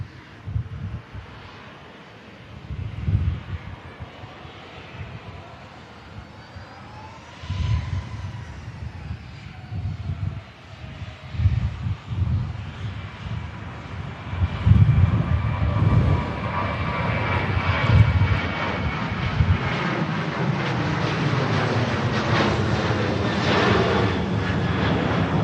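Aircraft engines rumble at Manchester Airport, a broad, steady roar that swells and grows louder over the second half, with gusts of wind noise on the microphone and no talking.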